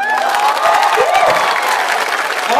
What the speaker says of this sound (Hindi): एक बार इन सभी हाथों से ताली हो जाए।